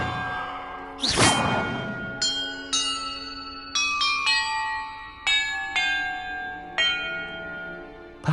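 Bells ring out in Hogwarts Legacy, first a loud clanging burst, then a sequence of about nine separate clear tolls of differing pitch, each ringing on and decaying before the next.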